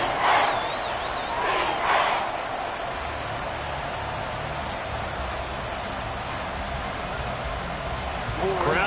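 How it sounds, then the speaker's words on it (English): A stadium crowd in a 2K football video game sends up a steady, broad roar that swells briefly at the start and near the end, while game commentary talks over it. "Crowd getting in it a bit already."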